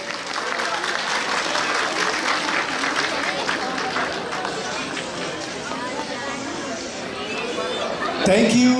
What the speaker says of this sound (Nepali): उहाँलाई जोरदार ताली